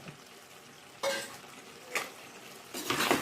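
Jackfruit and chicken gravy being mixed in a pot for chakka biryani, quiet wet stirring with three distinct scraping strokes of a spoon against the pan, close and without talk.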